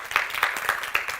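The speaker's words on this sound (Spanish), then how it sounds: "Den un aplauso al Señor en esta noche," A church congregation claps at an evening Spanish-language service, a brief stretch of close, uneven clapping with several distinct hand claps standing out.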